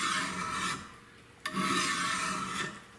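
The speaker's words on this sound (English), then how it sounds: "instead of hacking like that, I'm gonna draw file it" A file is drawn along a metal knife blade in a draw-filing technique, giving close, loud rasping strokes: one long pass, a brief pause, then two more sustained scrapes in steady rhythm.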